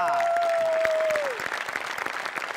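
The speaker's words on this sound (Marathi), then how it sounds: "उभं राहून टाळ्या वाजवल्या पाहिजे." An audience applauds at a Marathi TV comedy show, dense clapping rising as a sustained falling musical tone fades out at the start.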